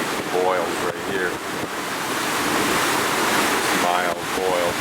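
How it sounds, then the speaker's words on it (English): Seawater surging through a narrow gap in a sea cave, a loud continuous rushing roar like surf, with wind buffeting the microphone and a voice talking over it. "Mild boils from the water in the cave rushing through the little gap up here."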